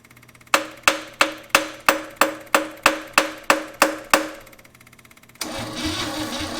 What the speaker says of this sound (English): It's turning over like the battery's dead or it's got compression.